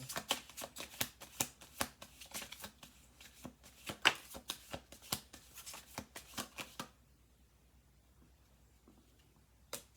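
Rapid riffle-shuffling of playing cards, a dense burst of crisp flutters and snaps for several seconds, then quiet.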